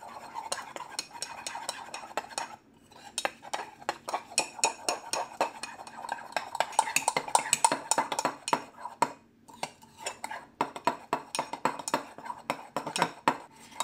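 A spoon or fork rapidly beats keto pumpkin spice mug cake batter with egg inside a mug, producing quick repeated clinking taps against the sides in bursts with short pauses, close and crisp.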